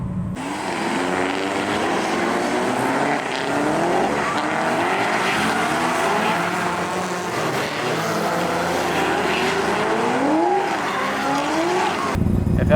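A drift car at a D1 divisional event on a course's east layout slides through a couple of corners, its engine revving and wavering loudly and steadily for several seconds with rising and falling pitch as the tires scrub.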